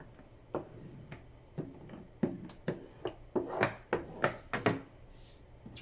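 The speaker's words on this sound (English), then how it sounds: "give that a good burnish" Paper craft cover piece for a December Daily kit being burnished by hand, a series of short dry rubbing and tapping strokes, close and fairly quiet, growing busier toward the end with no talking.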